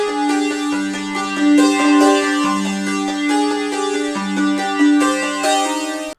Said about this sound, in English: the first instrument is a sitar, and it's kind of like, it's a really like whack sounding preset